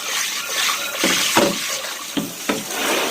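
Tap water runs steadily while a measuring cup is rinsed during seitan making. The hiss of the flow is interrupted by a few sharp splashes and knocks as the cup moves under the stream.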